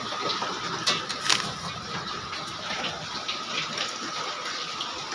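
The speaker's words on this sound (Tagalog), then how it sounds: "Sobrang lakas na ng tulo ng bubong." Heavy water leaking through a roof pours and splashes steadily from above, a continuous gushing rush with a few sharper drips and splats, no talking.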